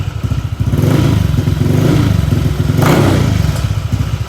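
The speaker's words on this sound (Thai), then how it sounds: "เดี๋ยวผมจะลองเบิ้ลให้ดูนะว่ามันยิงไหม" A motorcycle engine revs up loudly close by, rumbling and rising, with a few sharp pops and crackles from the exhaust.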